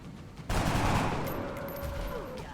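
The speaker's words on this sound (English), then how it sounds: "That shot connects and destroys the floater." A gunfire shot hitting a floater in XCOM Enemy Within lands as a sudden loud burst after a short quiet lead-in, then a sustained rumbling decay with a faint whining tone.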